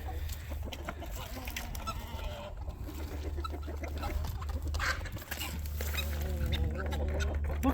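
Chickens and ducks in a homestead chicken coop during morning feeding, a busy flock of clucking and honking, quacking fowl layered over a low hum, moderately close.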